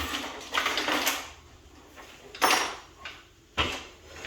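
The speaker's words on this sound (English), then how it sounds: "So you can hear all the tools falling, but it's still gonna keep it inside." Tools clattering and sliding inside a drawer of a rotating MFT workbench, several separate rattling bursts and knocks spread over a few seconds, fairly quiet and close, with no talking.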